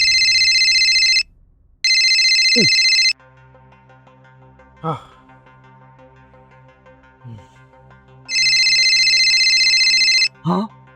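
A telephone rings repeatedly with the same caller calling again and again: loud electronic ring bursts of about a second each, a pause, then another long burst, with people talking faintly between and over the rings.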